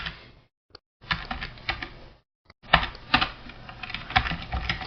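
Fast typing on a computer keyboard, bursts of close clattering keystrokes separated by brief pauses, fairly loud and without speech.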